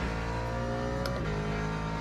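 Ford Mustang race car engine in Le Mans Ultimate, a smooth, even, continuous hum held at a constant pitch throughout, moderately loud and heard on its own.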